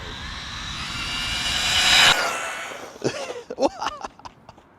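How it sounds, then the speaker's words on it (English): An RC monster truck runs at full throttle, its electric motor whining louder and higher for about two seconds before cutting off. Voices then talk over the quieter aftermath. "It's actually pretty easy to drive, full throttle."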